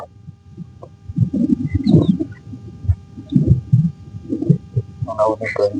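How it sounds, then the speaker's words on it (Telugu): Birds call and pigeons coo softly near a quiet vegetable garden at Himayat Sagar, scattered chirps over a low hum with people talking nearby. "పిట్టల శబ్దాలు మాత్రమే వినపడుతున్నాయి"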